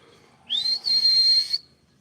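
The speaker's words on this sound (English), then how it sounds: "Oh, that's the wrong whistle" A single sustained whistle blown on a farm in Puerto Rico to call the animals in, a bright steady tone lasting about a second with a brief break near the start, loud and close, with no talk.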